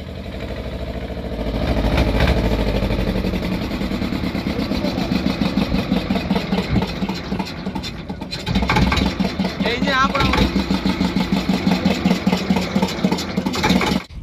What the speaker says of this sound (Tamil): இன்ஜின் ஸ்டார்ட் பண்ணியாச்சு.